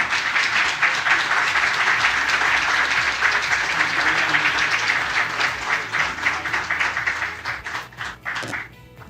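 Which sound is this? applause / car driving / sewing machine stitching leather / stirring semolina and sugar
applause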